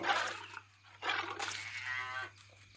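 A buffalo lows in the Animal Simulator video game while under attack, giving two loud, drawn-out moans in quick succession over a low steady hum.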